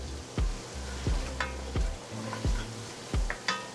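Food frying in a pan is stirred with steady, fairly loud sizzling throughout, broken by a regular series of dull utensil knocks and scrapes against the pan roughly every two-thirds of a second, with no talk.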